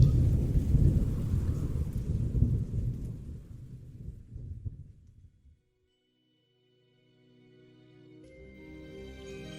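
A thunderstorm with rain in a horror audiobook: a heavy, rolling thunder rumble with rain fades out over about five seconds into silence, followed by a soft, low tonal sound that rises toward the end.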